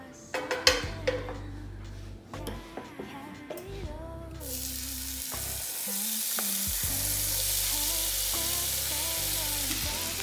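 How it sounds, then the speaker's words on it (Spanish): Onion and serrano chile with tomato hitting a hot pan, a few clatters and stirring knocks at first, then a steady loud sizzle of frying that fills the rest. "Y lo vamos a freír."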